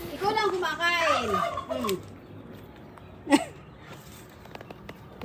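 A turkey gobbles in a rapid burst of warbling calls close by, followed by a single sharp squawk, in a rural yard with faint background noise.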